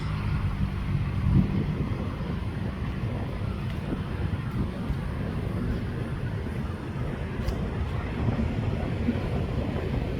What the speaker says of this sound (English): Alright, here we have Amtrak 153.